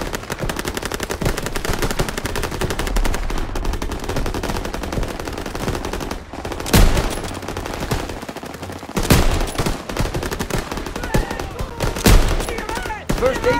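Sustained machine gun fire rattles in a Call of Duty WWII battle near a garrison bridge, dense continuous bursts with a few louder heavy shots layered over the din.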